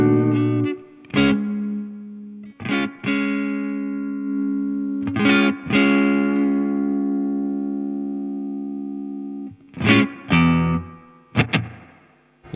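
Electric guitar played through a Laney Lionheart Loudpedal with spring reverb, loud distorted sustained chords and notes struck in bursts, ringing out with a dripping spring-reverb tail between hits.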